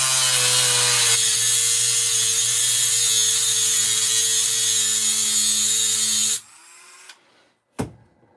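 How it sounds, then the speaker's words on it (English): A notch being cut into a plastic part of a Team Associated RC10GT2 stadium truck with a high-pitched, whining power tool, steady and loud for about six seconds, then it stops, leaving near silence and a sharp click. "Let's see if we can get a notch cut into this without tearing nothing up."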